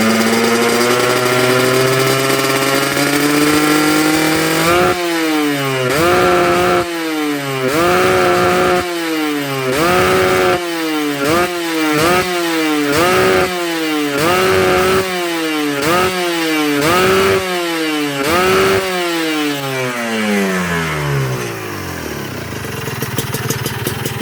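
Kawasaki Ninja two-stroke motorcycle engine fitted with an aftermarket OB cylinder block, revved hard to the limit again and again in rapid sharp blips, loud and close, with a buzzing wail between bursts before falling back to idle.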